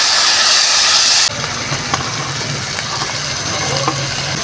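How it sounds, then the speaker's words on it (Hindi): Okra dropped into a hot pan of tomato-chili paste, a loud broadband sizzle that steps down after a second into a steady frying crackle with scattered pops, close and continuous, no voices. "अब हम इसमें भिंडी डालेंगे।"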